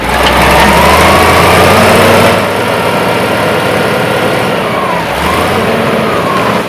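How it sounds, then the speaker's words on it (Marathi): Vehicle engines idle and run near the Chandrapur thermal power station, a loud, steady mechanical drone with a faint rising whine, no voices audible. "वाहनांचा आवाज"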